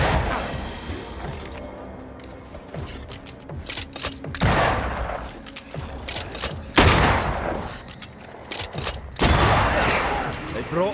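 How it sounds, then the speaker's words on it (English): Gunfire in the video game Banishers: Ghosts of New Eden comes in several loud, sharp bursts separated by quieter stretches, with heavy thumps and booms, rapid volleys and voices mixed in. "That corpse is gonna shoot."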